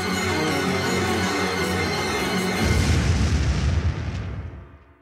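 Highest-intensity segment of a game soundtrack: dense, loud full-band music that builds into a booming, crashing swell before fading out over the last second, with no voices.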